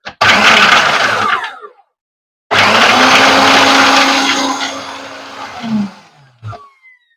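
Mixer grinder whirring loudly as it crushes mango stems, two bursts of steady harsh grinding separated by a short pause, the second run slowing and winding down near the end.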